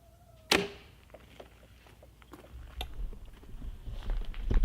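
A single sharp arrow release from a Diamond Medalist 38 bow snaps loudly near the start, followed by faint clicks, shuffling and a rising rustle of handling noise.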